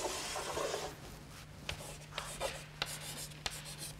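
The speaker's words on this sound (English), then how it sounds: "I'm going to draw a figure." Chalk or marker scratching on a board while a physics figure is drawn, soft scraping strokes punctuated by sharp taps, quiet with a low steady hum beneath.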